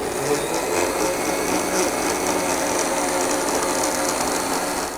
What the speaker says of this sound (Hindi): 1 टेबल स्पून हम इसमें शामिल करेंगे वेनिला एसेंस और इसको भी हम अच्छी तरीके से ग्राइंड कर लेंगे